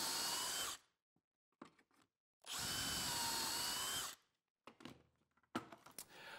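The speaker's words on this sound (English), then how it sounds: "So we're all set to drill holes in all of the rail pieces," A power drill bores holes into wooden cabinet face frame rails, running in two sustained whines of about two seconds each, separated by quiet handling knocks and clunks of the workpiece.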